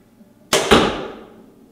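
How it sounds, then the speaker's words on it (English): A BowTech Insanity compound bow looses a 353-grain arrow: a sharp double thump from the string and impact, loud and close, followed by a decaying ring with no talking. "It shot a 353 grain arrow at, I believe it was 350 feet per second."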